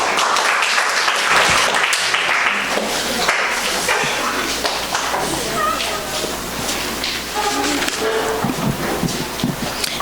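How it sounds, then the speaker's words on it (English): Audience applause at a mental health seminar, steady broadband clapping filling the room throughout, with some talk mixed in. "You all can give him another round of applause."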